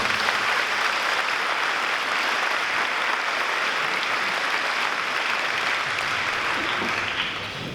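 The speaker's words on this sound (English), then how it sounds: "let's give all these community organizations a big round of applause for being here." Sustained crowd applause, loud and even from start to finish, tapering slightly at the very end.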